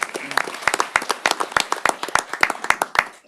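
Applause from the audience at a city council meeting, a short burst of many hands clapping quickly and unevenly, close and fairly loud.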